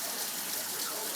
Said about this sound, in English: Just nice and slowly pour it right through there.